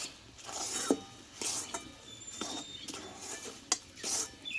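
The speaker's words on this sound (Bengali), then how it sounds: "এই চালের গুঁড়োটাকে আমি দিয়ে দেবো অল্প অল্প করে আর এই হারে খুন্তি দিয়ে আমি নাড়তে থাকবো" Spatula scraping and stirring rice flour dough in a pan, with repeated soft scrapes and clinks of metal on the pan surface, moderately close and fairly quiet, no talking.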